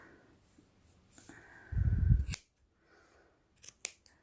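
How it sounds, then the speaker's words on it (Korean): Scissors trim stray strands from a knitted yarn pom-pom for a beret, first a close crunchy burst of snipping, then a few sharp isolated clicks of the blades after a quiet pause. "이렇게 삐죽삐죽 튀어나왔는 거를 가위로 정리를 해 주시면 돼요"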